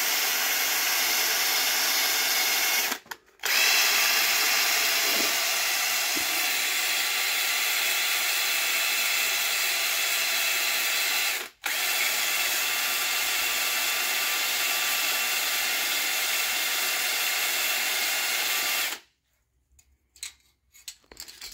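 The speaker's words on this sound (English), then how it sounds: "honing out this cylinder block to see if this is a good one that we can use" A cylinder block from an MK7 GTI engine rebuild is honed with a steady, loud hissing whir that runs almost nonstop. It breaks off briefly twice and stops near the end.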